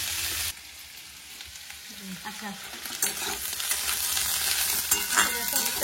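Food sizzles and crackles in a hot pan with occasional stirring scrapes, growing louder; a voice says a brief word near the start.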